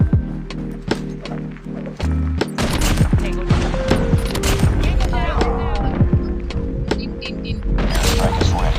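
Gunfire in an online shooter video game rattles out in rapid, sharp bursts of shots, loud and close, with explosions and voices speaking over the battle.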